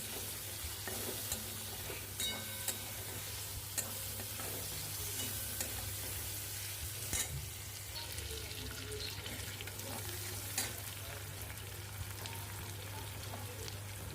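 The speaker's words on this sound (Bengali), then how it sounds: "পেঁয়াজটা ভালো করে নাড়াচাড়া করে একটু লাল লাল করে ভেজে নিতে হবে" Onions being stirred and fried in oil in a pan, giving a steady close sizzle with frequent scrapes and clinks of the spatula against the pan over a low constant hum, with no talking.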